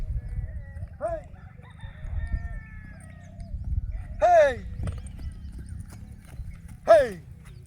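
A horse walking during training, its hooves clip-clopping faintly under a low rumble of background noise. Several loud rooster-like crows rise above it.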